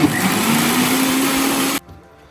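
A mixer grinder runs steadily, blending grated coconut with water into coconut milk for a home-cooked chicken curry, a loud continuous whirring motor hum that cuts off abruptly near the end.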